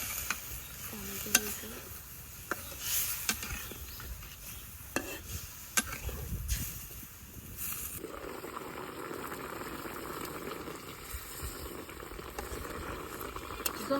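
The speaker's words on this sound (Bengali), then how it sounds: "তরকারিটা খুব ভালোভাবে কষে নিচ্ছে" A curry of shol fish and mustard greens sautéed and stirred in a pan in a village kitchen, giving a steady close sizzle with scraping stirring taps, under a voice talking.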